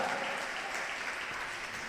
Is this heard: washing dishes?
no